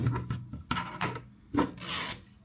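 Fabric is ripped by hand in several quick, rasping bursts, close and fairly loud, with short pauses between the tears and no talking.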